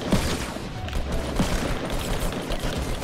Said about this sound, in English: I'm actually being shot.